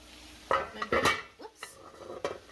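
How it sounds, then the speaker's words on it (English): A metal lid clanks against a cooking pot of ham and potatoes, with a few close knocks and scrapes of cookware and a soft sizzle in the gaps, no one speaking. "let's take the lid off and see what we've got"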